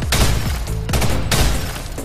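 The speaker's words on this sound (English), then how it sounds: "You should never be throwing more than a 2-shot burst through the M4." Short bursts of M4 rifle fire in a first-person shooter game: three loud, sharp, close volleys, each ringing briefly before the next.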